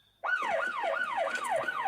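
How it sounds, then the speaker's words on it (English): A wailing siren sweeps up and down in quick repeated cycles, loud and close, starting abruptly after a brief quiet moment. "Different siren. Police."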